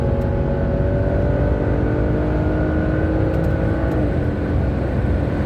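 Steady in-cabin engine drone and road roar from a 2008 Volvo S80 T6 twin turbo accelerating on a highway at speed, a continuous loud rumble with rising tonal whine and no pauses.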